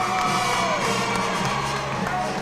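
A big crowd at a college basketball game cheers and whoops loudly in a sustained roar, with scattered shouts mixed into the noise.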